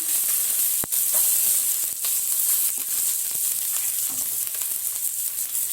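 Onions sauté in hot oil with mustard seeds and curry leaves, a steady close frying hiss with a sharp spoon knock near the start and faint stirring scrapes.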